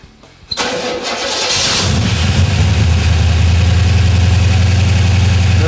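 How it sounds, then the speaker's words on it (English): A 1965 Chevelle engine on break-in is started ice cold: a brief starter crank catches into a loud roar, then settles into a steady, close, throbbing idle. "So right now, this thing's ice cold, hasn't been run today. Let's see how it sounds."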